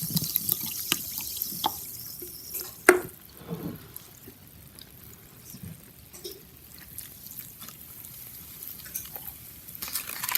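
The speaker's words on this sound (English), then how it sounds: "she is pouring some Perrier or soda water, carbonated water here. And then normal water." Carbonated soda water and then plain water are poured over a golden Turkish su böreği fresh from the oven, a soft trickling splash with scattered drips and clinks in a quiet kitchen.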